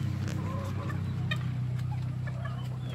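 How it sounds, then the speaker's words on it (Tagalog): Chickens cluck in short, scattered calls over a steady low hum, a small flock heard fairly close. "Ito mga manok natin mga ka-farming"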